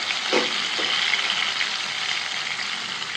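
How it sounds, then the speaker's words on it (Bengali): Fish fry in mustard oil in a pan, giving a steady close hiss of sizzling with a couple of brief louder spatters near the start and no talking. "এখন দিয়ে দিচ্ছি সরিষার তেল মাছ ভাজার জন্য"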